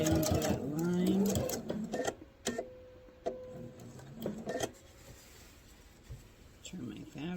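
A sewing machine sews fabric for a star heart table runner in short, uneven bursts, mixed with soft handling noises and a voice speaking nearby.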